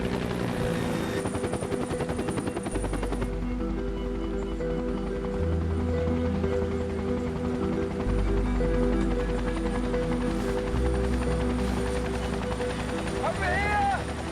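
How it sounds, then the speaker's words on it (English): A helicopter in a video game drones steadily with a low rhythmic thump throughout, joined by bursts of rapid gunfire and game-like effects, with a voice speaking intermittently. "But the instant that I hear that helicopter, I snapped to attention."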